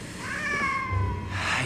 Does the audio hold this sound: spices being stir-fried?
no